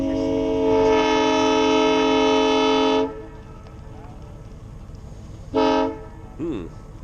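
A Nathan K5 multi-chime train horn blasts loud and steady for about three seconds, then gives a second short blast; faint voices and background noise fill the gap between.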